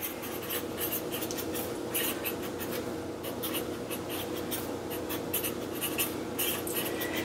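Chalk or marker scraping and tapping steadily across a classroom board, continuous rubbing strokes with brief pauses, close and alone with no talking.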